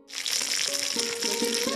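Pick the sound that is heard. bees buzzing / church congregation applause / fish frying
fish frying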